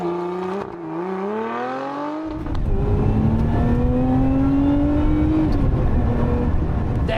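A Lotus Emira sports car accelerating hard on very wet roads, heard from inside the cabin: a rising engine note climbs, drops briefly at a gear change, then surges into a loud, dense roar that keeps rising.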